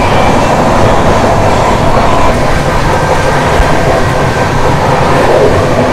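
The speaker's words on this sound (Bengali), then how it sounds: "ট্রেন কিন্তু বেশ অনেক স্পিডেই চলছে।" Indian passenger train running fast past Chilika Lake, a loud continuous roar of wheels on rails with steady rumble and faint clatter throughout, heard close from on board.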